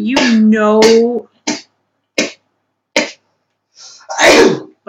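A sneeze bursts out loud and close at the end, preceded by a voice and a few short sharp vocal bursts.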